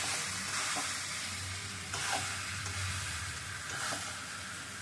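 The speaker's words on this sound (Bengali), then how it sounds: "চিকেনের সাথে আবারও মশলাটাকে ভালো করে কষিয়ে দিই।" Chicken sizzles with spices in a hot pan while being stirred, a constant bright frying hiss with occasional scraping strokes of the spoon, close and steady with no talking.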